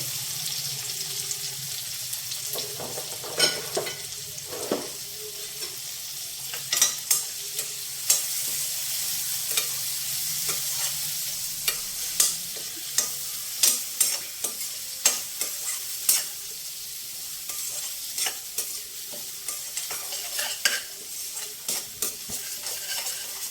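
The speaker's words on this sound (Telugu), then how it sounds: "ఉల్లిపాయ బాగా వేగాలండి." Onions sizzling in oil with curry leaves, fenugreek powder and turmeric, a steady close hiss broken by frequent sharp clicks and scrapes of a spoon stirring the pan.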